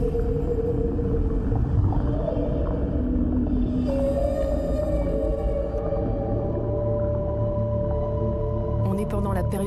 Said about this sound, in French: On est pendant la période de reproduction des baleines. Pour séduire les femelles, les mâles chantent.